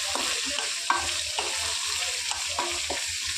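Sesame seeds and cumin sizzle steadily in hot oil, a continuous close frying hiss broken by a few stirring scrapes, with no voices.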